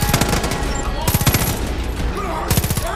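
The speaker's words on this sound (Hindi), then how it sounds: "M249 से उड़ाने का मजा ही अलग है।" An M249 machine gun fires in Far Cry 5, in three loud, rapid bursts separated by short pauses, with ambient game noise filling the gaps.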